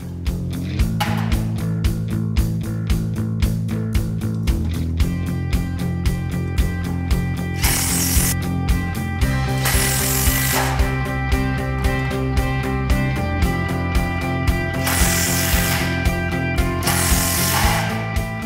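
Power driver sinking screws into steel truss webs during AusSteel truss assembly, a loud, continuous whirring drive with rapid clicking ratchet texture and several bursts of higher whine, close up with no talk.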